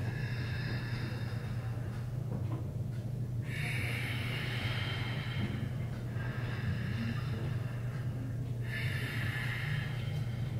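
A person takes slow, deep breaths during breath-work practice, with several drawn-out airy inhales over a constant low hum and no speech.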